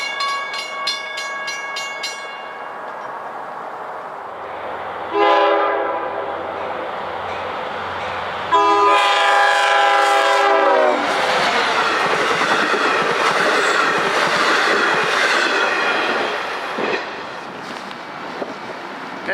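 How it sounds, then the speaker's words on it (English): An eastbound Long Island Rail Road train's horn sounds at Great River Station, then the loud approaching train rumbles and clatters along the tracks with squealing wheels, more horn blasts mid-way, no voices. "We got an eastbound train approaching here at the Great River Station."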